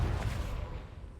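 A Confringo fire spell cast in Hogwarts Legacy, a brief booming blast with a rumbling burst that quickly fades.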